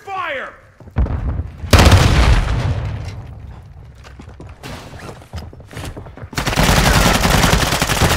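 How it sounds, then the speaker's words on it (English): A stun grenade bursts in the Call of Duty DMZ video game, giving loud, broad blasts with sustained rumbling and crackling in between, amid game gunfire and battle noise. "Throwing a stun grenade."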